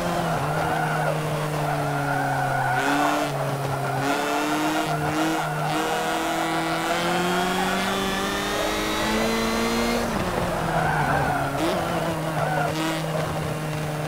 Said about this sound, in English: You're the one that was trying to fucking drift.